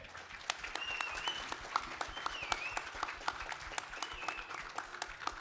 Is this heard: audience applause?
yes